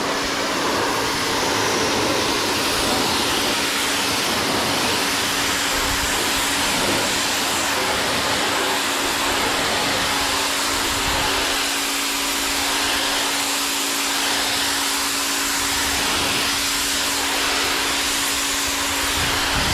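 A small outboard motor drives an Alumicraft 1232 jon boat at full throttle, a loud steady drone with a constant hum held for the whole stretch, close and without talk.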